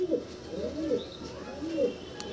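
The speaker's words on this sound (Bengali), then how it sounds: "দারুণ পায়রা।" Pet pigeons coo nearby in repeated soft, throaty swells, three or four rolling calls under a faint background hiss.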